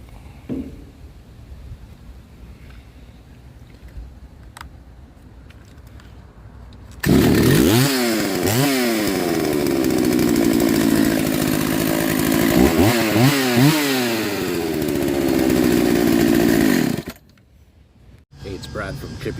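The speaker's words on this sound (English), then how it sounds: "Let's see if we can get the 62 to fire up." A Husqvarna 62 chainsaw starts after seven seconds of quiet fiddling, then runs loud and close for about ten seconds, its engine revving up and down repeatedly before cutting off abruptly.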